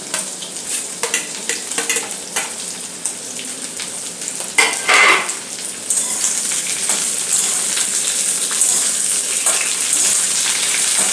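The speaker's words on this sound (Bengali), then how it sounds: "আলুগুলোকে একটু ভেজে নেব।" Potatoes go into a pan of oil with pointed gourd for a vegetable egg curry, frying with a steady loud sizzle. Spoon scrapes and stirring clatter come through, and the sizzle swells and holds strong through the second half.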